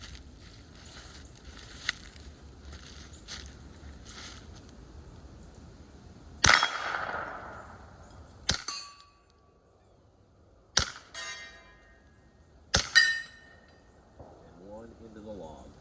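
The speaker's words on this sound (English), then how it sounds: "I've got the Kel-Tec Sub 2000 loaded up with the PPU ammunition." A suppressed Kel-Tec Sub 2000 fires PPU subsonic ammunition into a log outdoors: four muffled, sharp reports roughly two seconds apart, each with a short decaying tail, over faint background ambience.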